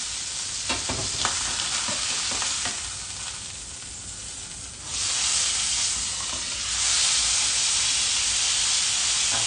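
Steak frying in a pan gives a loud, steady sizzle and hiss that swells louder partway through, with occasional light scraping or stirring clicks and no talking.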